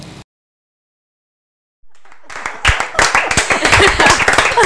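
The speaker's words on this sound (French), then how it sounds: "vraiment, on peut encore applaudir" An audience bursts into applause after a short silence, dense clapping that swells quickly and stays loud, with faint talk before it.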